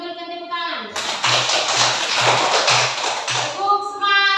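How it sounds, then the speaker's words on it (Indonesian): A group of children claps in a classroom setting, a burst of steady, fairly loud applause lasting a few seconds, framed by sung or spoken voices before and after. "Mari kita memberikan tepuk tangan."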